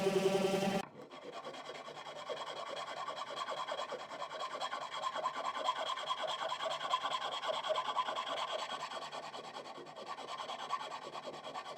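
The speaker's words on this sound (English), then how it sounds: "We got to sand down that box now." Sanding down a handmade wooden box for a phone charging station, a steady rhythmic rasping rub of abrasive on wood that continues for several seconds after a brief opening noise.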